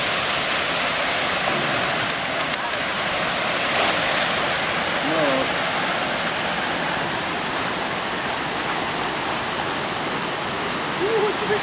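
Argyle waterfall in Tobago, a steady, loud, full roar of falling water heard close and continuous throughout.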